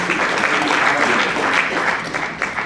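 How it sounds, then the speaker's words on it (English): Dense audience applause at a James Baldwin centennial celebration, a steady continuous wash of many hands clapping at even loudness throughout, with no break. "We would like to give you a round of applause"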